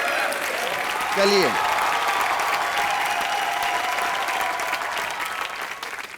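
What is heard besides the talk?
studio audience applause for Ram Gopal Varma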